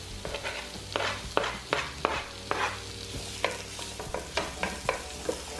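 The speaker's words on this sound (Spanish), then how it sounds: "ahora voy a agregar la cebolla." Onion frying in a pan for a Mexican longaniza torta: a soft sizzle with a series of sharp spatula scrapes and knocks against the pan at uneven intervals, no talking.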